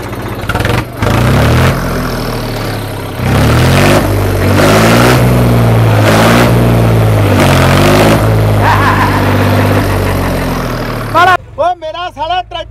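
A tractor engine starts and revs hard during a stunt show, its deep throb rising and falling in loud surges for most of the stretch while voices shout and talk over it.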